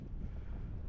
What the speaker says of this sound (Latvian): Baigais vējš būs, dzirdamība, es domāju, būs 0.